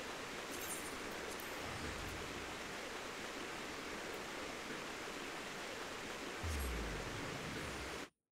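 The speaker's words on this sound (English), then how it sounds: "That waterfall is so loud." A steady, loud roar of rushing water from a waterfall in Final Fantasy XIV fills the scene evenly, near and constant, then cuts off abruptly at the end.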